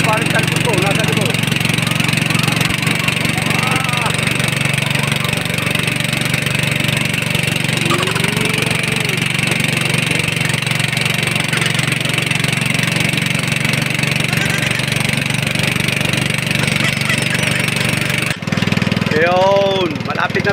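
Motorboat engine droning steadily on a river during a storm with strong current, a loud, constant mid-pitched hum with voices talking intermittently over it.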